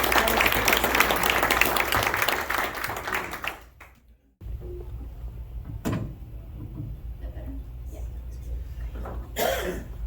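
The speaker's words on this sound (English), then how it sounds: "let's give a warm WTP Cape County applause" Applause from a seated audience at a student chapter presentation, a brief dense clatter of clapping that fades to a hush, followed by scattered coughs, shuffling and a short burst of renewed noise near the end.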